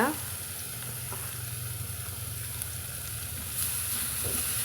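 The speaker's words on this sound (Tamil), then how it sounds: "இப்போ வந்து நம்ம இந்த துருவி வச்சுக்கிற பீட்ரூட் வந்து சேர்த்துக்கலாங்க" Grated beetroot added to onions frying in a pan and stirred, a soft steady sizzle with light spoon scraping, close and continuous, swelling slightly toward the end.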